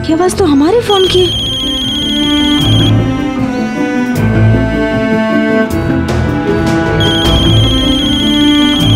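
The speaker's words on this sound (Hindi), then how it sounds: "ये आवाज तो हमारे फोन की।" A mobile phone ringtone repeats as a bright, steady electronic melody indoors, sounding loud and continuous over background music while people talk.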